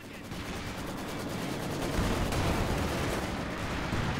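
A Maxim machine gun fires in a Company of Heroes 2 battle, giving a dense, continuous rattle of rapid shots under general battlefield noise at an even, moderate level.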